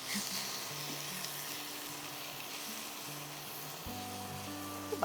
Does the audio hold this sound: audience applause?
no